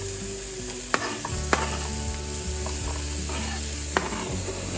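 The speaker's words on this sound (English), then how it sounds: "I'm gonna go ahead and throw my onions in there so they can first saute" Two small onions, sliced, sauté in a pan beside cooking burgers, a steady close sizzle broken by a few sharp clinks of a utensil against the pan.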